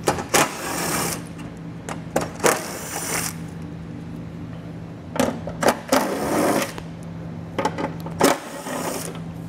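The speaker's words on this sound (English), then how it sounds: "We're going to be using a 10 millimeter socket to remove all these fasteners." A 10 mm socket on a ratchet or driver removing panel fasteners under a 2016 Land Rover Discovery during a trailer hitch installation, with several short bursts of mechanical whirring and clicking separated by pauses and a faint hum.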